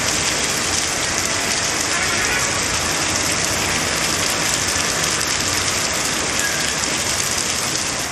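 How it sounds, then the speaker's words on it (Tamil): Heavy monsoon-style rain pours down steadily in a Tamil Nadu town, an unbroken broadband hiss of rain on surfaces with a faint engine-like hum underneath and no talking. "2 மணி நேரத்திற்கு மேலாக கனமழை கொட்டி தீர்த்தது."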